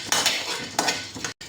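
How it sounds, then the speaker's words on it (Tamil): Roasted gram being dry-roasted without oil in a pan, stirred with a metal spoon, giving a few quick scraping and rattling clinks against the pan over a short moment. "பொரிகடலை லேசாக சூடு வர நெஞ்சு வறுத்துக்கிட்டா போதும்."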